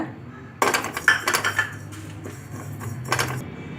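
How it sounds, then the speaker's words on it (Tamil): Cumin seeds are dry-roasted in a pan for pav bhaji masala powder. A utensil clinks and scrapes against the pan in close, uneven bursts, with no talking. "அடுத்து ஜீரகம் எடுத்து வறுத்துக்கோங்க"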